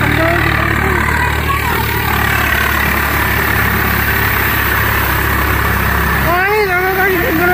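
A tractor engine runs steadily nearby during Holi, a loud continuous low rumble with a droning hum that stays constant throughout while voices talk and a brief whistle-like tone rises near the end.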